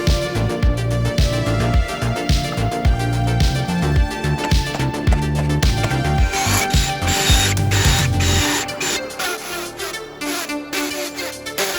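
A hand ratchet clicks in quick repeated strokes while bolting a storage rack's base frame to a garage floor, loud and close, with short pauses between bursts.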